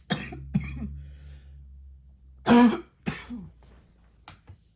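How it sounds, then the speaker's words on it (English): Two sharp coughs close together, then a softer throat clearing, with short quiet gaps and a low background hum. "That cough is still there."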